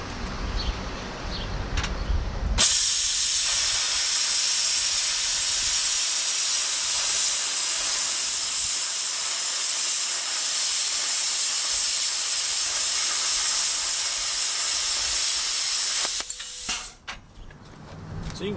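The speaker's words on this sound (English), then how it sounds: "I was cutting through some welds and some other stuff" A Hypertherm Powermax 45 SYNC plasma cutter at 45 amps with a drag consumable slices through quarter-inch steel and welds, a loud steady hissing roar that starts abruptly, holds for about fourteen seconds, then cuts off.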